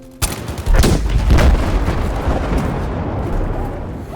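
Loud in-game V-2 rocket explosion in Battlefield V: a sharp blast onset followed by a heavy, sustained rumbling boom that slowly decays, with no talking over it.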